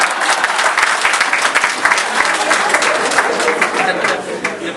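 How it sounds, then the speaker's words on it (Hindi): An audience applauds at an Urdu comic poetry recital, a dense burst of clapping mixed with scattered crowd chatter that carries on steadily for about five seconds. "तालियां तो लगाइए ना।"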